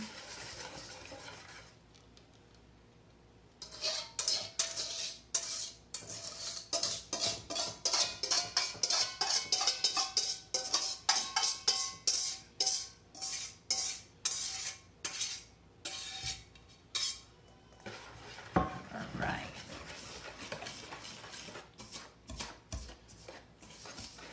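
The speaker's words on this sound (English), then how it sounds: "Now I'm going to dump the wet into the dry and mix it up." Wet and dry pumpkin pie ingredients are stirred together in a mixing bowl, giving a steady run of close clinks and scrapes from a utensil against the bowl, rapid and rhythmic, then slowing into softer, wetter stirring toward the end.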